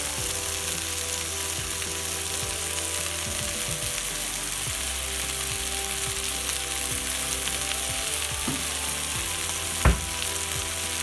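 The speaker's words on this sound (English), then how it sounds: "We're going to add a little bit of stir fry sauce." Chicken stir-fries in stir fry sauce in a hot pan, giving a loud, continuous sizzle close up with faint scraping of stirring under it and a single sharp knock near the end.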